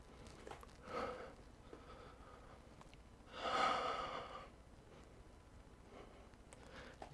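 Slow yoga breathing during a guided twisting pose, soft airy exhales and inhales rising and falling a few times, close and quiet with no talk.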